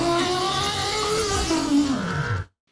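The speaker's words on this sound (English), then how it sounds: "that is the sound of someone zipping up a bag and then a crow at the end randomly" A bag's zip is pulled closed in a noisy, raspy sweep, then a crow caws with a downward-bending call just before the sound stops dead into silence.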